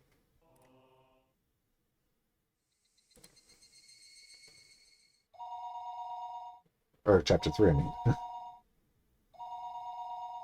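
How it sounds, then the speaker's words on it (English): Telephone ringing in the visual novel Higurashi no Naku Koro ni, repeated electronic bursts with short pauses between them, plus soft chirping earlier on. A voice speaks briefly between rings. "The phone suddenly rang."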